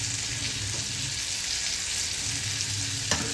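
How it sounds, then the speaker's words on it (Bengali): Dried fish frying with spices in a pan, a steady close sizzle throughout, ending in one brief clatter. "ওই পাশে আমি শুটকি মাছ বসিয়ে দিয়েছি ভাজা করার জন্য।"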